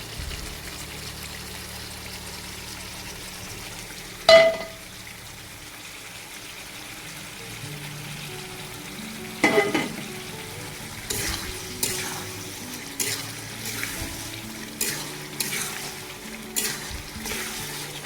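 Fried potatoes tossed into oily hilsa fish curry base and stir-fried, a soft bubbling sizzle broken by a few sharp spatula clanks and scraping stirs.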